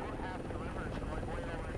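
Search and rescue helicopter flying over a British Columbia shoreline, a steady dense rotor and engine roar filling the clip evenly, continuous and moderately loud with no distinct beats.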